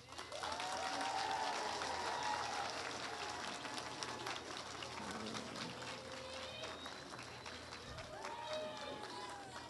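An audience at a university honors program induction ceremony breaks into sustained applause for new members, a dense wash of clapping that swells and holds steady, with some voices in the crowd.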